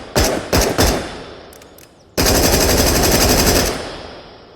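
A Groza bullpup rifle with a built-in grenade launcher fires in the Into the Radius VR game: three quick loud shots, then a short pause, then a sustained burst of automatic fire. Metallic echoes trail off as the burst ends.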